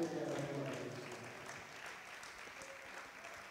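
A church congregation claps for Jesus during a sermon, a diffuse, faint wash of many hands that starts fuller and then thins out.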